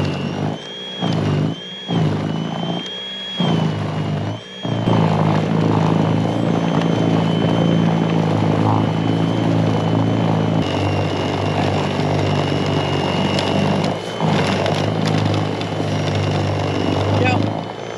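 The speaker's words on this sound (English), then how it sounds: "And let's go to other parts of the house and do some snow blowing." A Greenworks 80V battery-powered snowblower cuts in and out in short bursts, then runs as a steady, loud whirring drone while it clears snow around a house.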